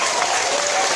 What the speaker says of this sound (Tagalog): So palakpak tabi siya, okay?